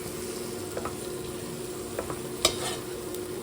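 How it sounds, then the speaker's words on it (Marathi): Garam masala and other spices fry in oil for a goat head curry, making a steady close sizzle broken by a few quick stirring scrapes and one sharp clink. "फ्राय करू आता तेलात त्याला 1 मिनिट."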